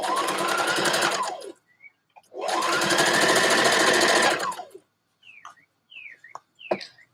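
A sewing machine runs fast and loud, stitching the hem of a dress in two long continuous bursts with a short pause between, followed by faint chirpy bird calls in the background.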